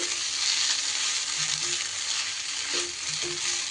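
Rice sautéed with spices in a pan for a pointed gourd pulao gives a dense, steady frying hiss with a few faint scraping stirs underneath.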